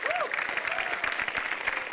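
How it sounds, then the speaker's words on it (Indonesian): An audience applauds at a televised stand-up comedy show, a brief burst of clapping and crowd noise mixed with a cheerful voice speaking over it. "Tepuk tangan dulu"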